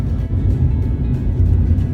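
A 1974 Porsche 911 Carrera engine roars with a deep, throaty rumble, loud and close, surging slightly as it pulls along without voices over it.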